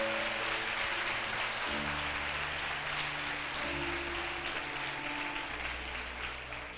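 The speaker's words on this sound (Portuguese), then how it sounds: "Pode aplaudir ao Senhor" A church congregation applauds during a Sunday service, a dense, steady wash of clapping from a large room that fades slightly at the end, with sustained musical tones underneath.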